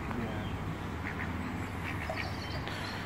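A few ducks quack faintly at a pond on a hot tub holiday, brief calls over steady outdoor background noise and low rumble.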